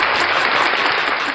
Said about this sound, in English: I give him applause